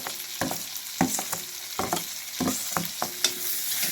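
Duck meat frying with cumin powder while being stirred in a pan: a sizzling background broken by frequent sharp spatula scrapes and knocks in an uneven rhythm, close up, with no talking.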